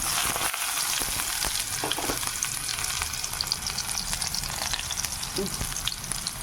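Finely chopped onion frying in oil with mustard seeds, a steady close sizzle dotted with small pops and crackles that keeps an even loudness throughout.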